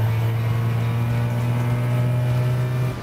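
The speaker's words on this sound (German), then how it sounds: "Das ist Wankelmotor, Freunde" Mazda Wankel rotary engine holding high revs, a loud, smooth, unbroken buzzing drone that stays level for three seconds before easing off at the end.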